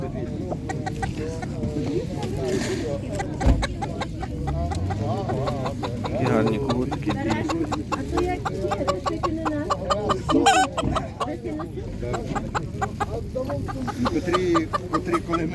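Chickens cluck and squawk steadily at a busy animal market, close and persistent, while people talk throughout and crowd noise fills the background.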